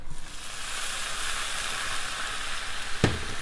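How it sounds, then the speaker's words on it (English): Onions sizzle steadily in a hot frying pan while burgers are being made, a close, even hiss throughout with a brief sharp clatter near the end. "Turn the heat up a little bit. Get it really sizzling."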